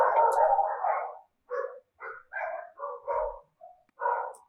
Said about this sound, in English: what pisses those dogs off so much that they gotta bark and bark for hours